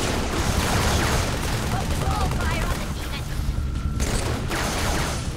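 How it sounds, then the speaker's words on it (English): Dense enemy gunfire rattles continuously in Halo 3, a steady barrage of shots and combat noise that fills the whole stretch at high volume without pause. "he's shooting at me here"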